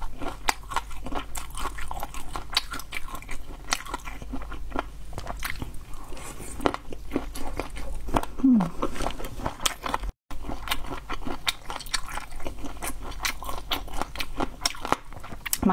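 Crunchy, wet chewing and biting on spicy boneless chicken feet, split large feet with a numbing Sichuan-style seasoning, close to the mic in a steady rhythm of bites and squishy chews with no talking.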